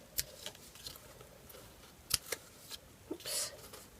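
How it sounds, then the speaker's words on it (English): Scissors snipping the ribbon ends of a bow for a handmade greeting card: several quick, faint, crisp snips spaced irregularly close by, ending in a slightly longer cut. "And then just snip off the ends."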